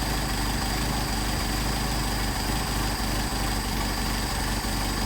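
A Mercedes 190SL engine fitted with Solex 44PHH carburetors idles at close range, a loud, steady, even running hum with no voices over it.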